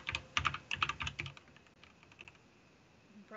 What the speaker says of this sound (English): You probably hear my really loud